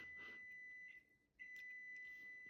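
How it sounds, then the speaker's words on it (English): A microwave oven sounds a few faint, steady electronic beeps in two bursts separated by a brief pause, heard alone in a quiet room. "Sorry, microwave."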